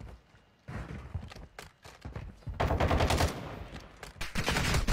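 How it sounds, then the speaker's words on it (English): Gunfire in a first-person military shooter game, heavy bursts of automatic fire erupting in the second half after scattered shots, loud and close, with a player's voice briefly heard. "Oh! I'm taking fire!"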